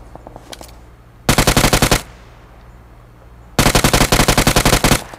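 Automatic gunfire in the mobile shooter game PUBG Mobile: two loud, close bursts of rapid shots, the first about a second long and the second about one and a half seconds, separated by quiet background hum.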